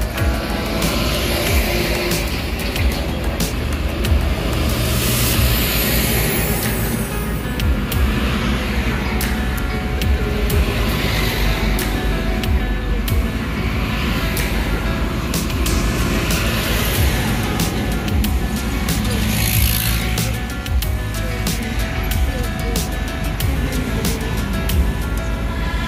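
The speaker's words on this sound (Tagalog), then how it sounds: "Labasan na po ngayon ng truck." A truck pulls out of a site in Bulacan at dusk, its engine a loud, steady rumbling roar that continues unbroken for the whole stretch, with broadband noise and faint clatter mixed in.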